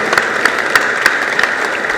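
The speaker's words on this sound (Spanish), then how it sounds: "si le podemos dar a mi madrinita Mariana H. un gran aplauso además." Audience applause at a book presentation at a book fair, a steady two-second wash of clapping from a crowd with no voices over it.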